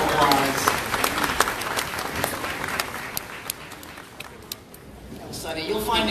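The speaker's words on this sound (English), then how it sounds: "let's give them a round of applause." Audience applause, a crowd clapping steadily for several seconds and thinning slightly toward the end, at moderate distance with a voice faintly over it.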